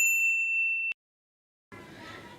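A single bright, clear notification ding for a bell icon rings steadily for about a second, then cuts off to silence before a brief, softer rustling sound.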